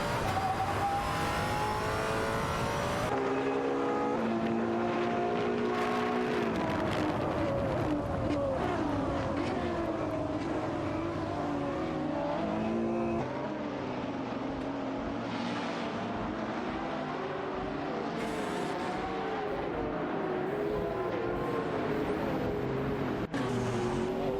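Race cars in a racing video game roar around the track, engines revving and shifting pitch continuously as several cars jockey for position, loud and steady throughout with no talk.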